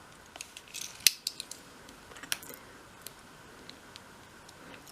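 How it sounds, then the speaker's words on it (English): A craft knife trimming around a small dollhouse mirror, producing faint, sparse clicks and short scratchy cuts against quiet background hiss. "then you can trim around with your knife"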